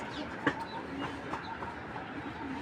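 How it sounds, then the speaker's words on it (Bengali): Red checker racing pigeons cooing softly, a few brief low coos and faint flutters standing out against a quiet room background, with no clear talk. "আমার লাইফে আমি এই ধরনের কবুতর দেখিনি ভাই"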